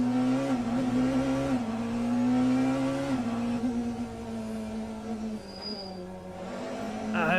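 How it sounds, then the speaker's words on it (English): Race car engine in the sim racing game Le Mans Ultimate holds a steady loud drone with shifting pitch as the car runs, a brief whine near the end, and no talk over it. "the engine sound is fine, I guess"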